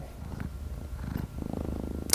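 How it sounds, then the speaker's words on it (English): Purring from a shelter cat, a male kept with his claws capped in pink nail covers, heard as a low steady rumble for about two seconds, close and fairly quiet, with no talking over it. "this beautiful kitty here"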